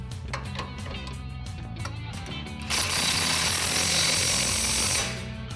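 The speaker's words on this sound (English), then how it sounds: "Now we can tighten this down with our 21mm impact and our 21 wrench." During a Ram 1500 suspension lift install, a low mechanical hum gives way to a 21mm impact wrench tightening a strut bolt, a loud, close, rattling burst of hammering that lasts about two seconds before stopping.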